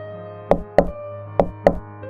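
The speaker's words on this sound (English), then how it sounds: "The knocking came again, louder this time." Someone knocks on a door four times in two quick pairs, sharp and close, each pair separated by a short pause in an otherwise quiet room.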